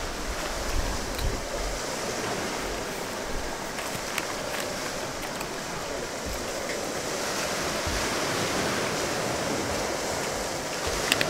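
Sea surf washing continuously onto a beach with green water, a steady broadband wash of waves with some wind noise on the microphone, fairly close and even throughout.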